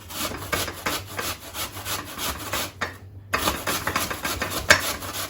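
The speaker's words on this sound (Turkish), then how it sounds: "Şimdi elmayı rendenin iri kısmıyla rendeliyorum." An apple grated by hand on the coarse side of a metal grater, giving steady rhythmic rasping strokes close up, with a brief pause partway through.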